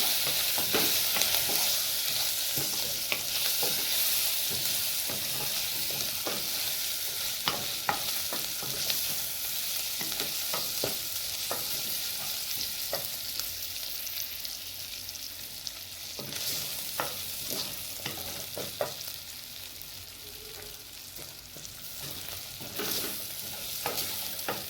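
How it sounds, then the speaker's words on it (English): Meat with onions and crushed ginger and garlic fries for pilau, a continuous loud sizzle broken by frequent scraping stirs from a spoon against the pot, close up with no voices. "add crushed ginger and garlic so that they can now fry together"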